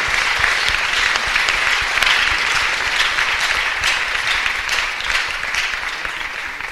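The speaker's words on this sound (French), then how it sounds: "Let's clap for her again." Steady, thick applause from a congregation at a children's ministers' gathering, continuous and even for the whole stretch without any voice on top.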